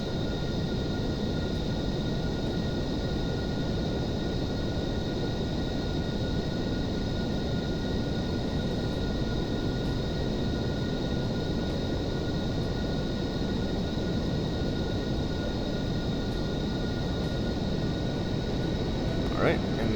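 Steady, loud broadband engine drone from an aircraft climbing at full throttle in the flight simulator Aerofly 2 PC, an even roar with faint tonal whine lasting throughout, with a voice talking over it.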